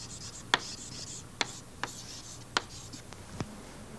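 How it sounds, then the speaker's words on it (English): Chalk taps and scratches on a board during a physics lecture on gravity, a handful of short sharp strokes spaced about a second apart, fairly quiet and close, with no talking over them. "Can I write that like this?"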